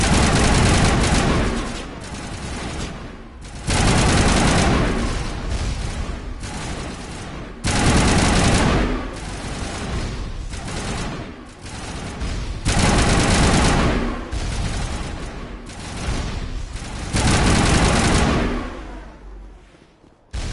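Heavy automatic gunfire from a player's weapon in Mass Effect, loud and sustained, firing in long bursts separated by brief pauses, with dense booming impacts throughout.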